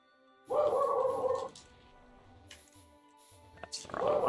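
A dog barks indoors in short bursts at some distance, a sustained bark group near the start and another at the end, with quiet gaps and faint clicks between.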